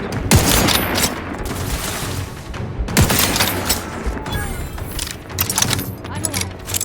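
Gunfire in The Outer Worlds 2 video game, loud dense bursts of shots and booms layered over continuous game noise with voices speaking.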